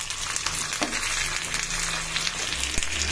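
Grated raw mango frying in a pan with curry leaves, a continuous close sizzle broken by a few light stirring taps.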